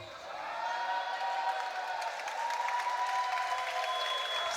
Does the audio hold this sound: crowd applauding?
yes